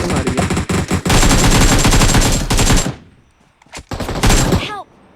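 Rapid automatic gunfire from the PUBG Mobile video game rattles loud and dense for about three seconds, then breaks off before a few more bursts of shots return.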